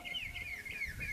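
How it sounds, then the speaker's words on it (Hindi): Birds calling outdoors during rain in Rajasthan, a steady, fairly loud stream of warbling, clucking calls that rises and falls without pause. "चिड़िया बोलने लगी।"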